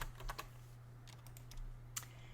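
Keystrokes on a computer keyboard during a Matrix jewelry-design software session, a few quick irregular clusters of soft clicks close by over a steady low electrical hum.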